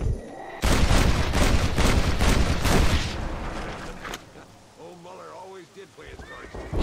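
Loud, dense burst of gunfire in the Western video game Red Dead Redemption, several shots aimed at a man's head and chest, rattling across the opening seconds. Then comes a quieter stretch with voice-like murmuring.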